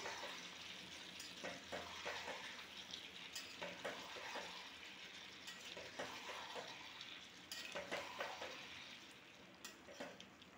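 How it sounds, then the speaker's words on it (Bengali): Boiled soybeans are stirred into simmering vegetables in a pan, with faint, irregular spatula scrapes and knocks against the metal over a low, bubbling sizzle. "সয়াবিন দিয়ে সবজিগুলোকে ভালো করে একটু নাড়াচাড়া করে দেব।"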